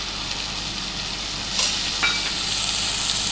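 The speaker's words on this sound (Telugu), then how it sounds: "టమాటా వేసుకున్న తర్వాత బాగా ఫ్రై చేసుకుందామండి" Tomatoes fry in a pan with a steady, close hiss of sizzling oil and a couple of brief stirring scrapes partway through.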